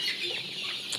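Sonali hybrid chickens on a farm cluck in quick, overlapping calls that sound close and moderately loud, with no one talking.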